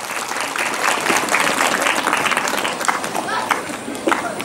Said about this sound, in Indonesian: Sekali lagi tepuk tangan untuk mereka yang sudah selesai baca kitab.